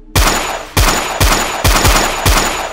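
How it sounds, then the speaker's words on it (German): Pistol gunshots as a sound effect, loud sharp blasts fired at an even pace with short echoing decays; five reports stand out, each followed by a fading tail. "feuerte 6 Schüsse auf das Biest ab."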